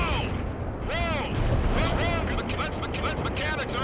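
Incoming artillery fire in the war strategy game World in Conflict rumbles as a dense, continuous barrage of booms close by, while voices call out over the din.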